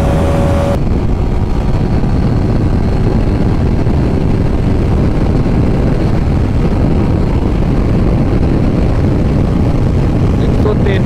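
A Bajaj Pulsar RS200 motorcycle engine held at high revs in sixth gear near 10,000 RPM, a loud steady roar mixed with wind rush throughout, recorded from the rider's position.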